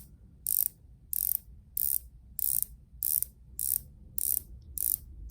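A Rolex Hulk watch bezel turned in steps gives eight crisp, evenly spaced clicks at close range, each a short bright ratchet snap over a quiet background.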